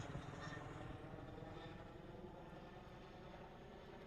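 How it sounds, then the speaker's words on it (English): A steady, droning helicopter rotor and engine roar fills the air continuously, loud and close overhead during a paratrooper drop at Fort Gordon, with no talking. "the helicopter is right over top of my head"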